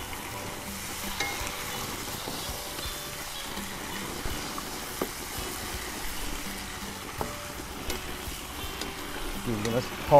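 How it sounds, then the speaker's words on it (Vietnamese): Fish pan-frying in oil with a steady, even sizzle that runs throughout, joined by occasional stirring clinks and light kitchen knocks nearby. "Cá mình chiên sơ cho nó thơm."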